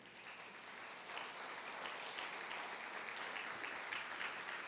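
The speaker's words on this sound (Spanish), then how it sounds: "¿Cuánto le pueden dar un aplauso, Señor, por eso?" A church congregation applauds together after a sermon point, continuous dense clapping that swells slightly after the first second and holds steady.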